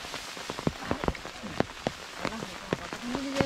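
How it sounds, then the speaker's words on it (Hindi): Rain falls outdoors, with close individual drops pattering and tapping on a surface over a steady hiss of rainfall. "बारिश पड़ रही है"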